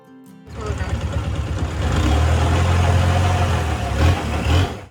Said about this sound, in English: It's nice that we have a motor on this long-tailed boat